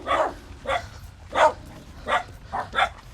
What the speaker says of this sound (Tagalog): Aso! Ay, aso!